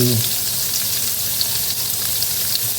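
Onion and tomato frying in a pan for a Tex-Mex breakfast, a loud steady hiss and sizzle throughout, with a brief bit of voice at the very start.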